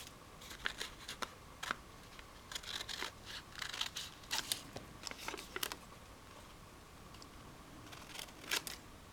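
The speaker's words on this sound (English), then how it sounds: "I might just roughly cut this out to size." A photo slide is cut out by hand with scissors, making a series of close, crisp snips and rustles in irregular bursts, with brief pauses between cuts.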